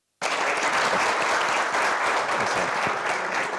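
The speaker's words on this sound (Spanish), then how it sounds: "así que otro aplauso, por favor" A conference audience breaks into sudden, steady applause that stays loud and dense throughout, many hands clapping together.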